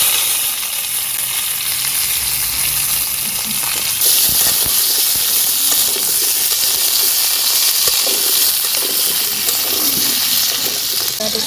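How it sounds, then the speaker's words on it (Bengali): Eggplant sizzles and hisses in hot oil for a home-cooked koi fish curry with potato, a steady loud frying crackle with occasional stirring scrapes and no talking. "বেগুনটা এখন ভেজে নেব তেলে।"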